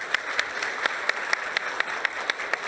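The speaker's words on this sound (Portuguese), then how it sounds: "por favor, uma salva de palmas para a Cristina Pina" An audience at the FEBRABAN Tech 2022 conference applauds, a steady rain of clapping with distinct individual claps popping through at a brisk even rhythm.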